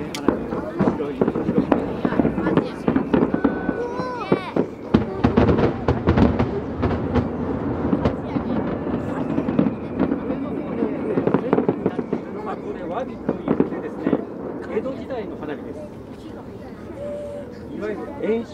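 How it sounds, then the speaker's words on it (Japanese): Traditional fireworks in Japan crackle and pop continuously, with sharp bursts and sizzling bangs, while a crowd murmurs and a voice talks underneath. "江戸時代の色の花火ですね。"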